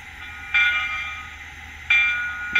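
Whistle and bell from a LokSound DCC decoder fitted in an HO-scale Bachmann 765 steam locomotive: a loud, steady multi-tone whistle blast sounds twice, with a short third burst at the end, over a quieter background tone.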